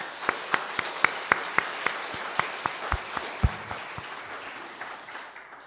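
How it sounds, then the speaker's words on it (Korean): A church congregation at a Sunday service claps in a steady, evenly spaced rhythm to encourage the choir; the sharp, crisp claps are close and gradually soften and thin out toward the end. "큰 박수로 격려해"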